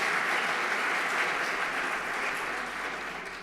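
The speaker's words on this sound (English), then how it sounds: "I don't think that Bimah needs you to clap for it" An audience at a synagogue congregation's annual event applauds in a dense, even wash of clapping that holds steady, then gradually thins toward the end, with no voices over it.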